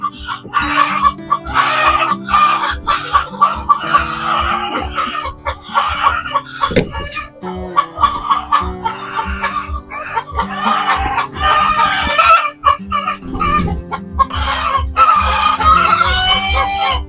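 Dekalb White cage-free laying hens in a backyard poultry house cluck and cackle continuously, loud and close, with overlapping calls and occasional longer crow-like notes from the flock.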